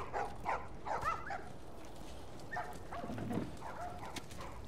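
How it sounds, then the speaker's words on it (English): A dog in The Last of Us Remastered gives a few short barks and whines at moderate distance, with faint ambient game sound between them. "Oh, and a dog."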